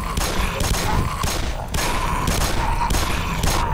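Bursts of rapid gunfire shooting at a creature in the Black Mesa video game, several loud volleys in quick succession with short gaps between them, dense and continuous with no talking.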